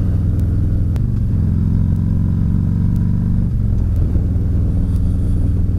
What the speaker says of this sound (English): Bike's running fine